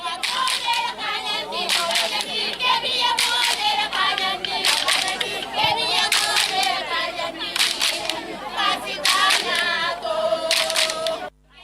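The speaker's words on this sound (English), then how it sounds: "The atmosphere in the field was exuberant, with clapping, singing and dancing by supporters of Bambali FC" Bambali FC supporters at a district football tournament final clap rhythmically in dense bursts, with voices and chanting of a lively crowd mixed in throughout, loud and close.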